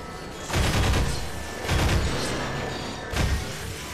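Three heavy gunshots from a weapon in the video game Half-Life 2 Episode 2, fired about a second apart, each a loud booming blast with a rumbling tail that fills the gaps.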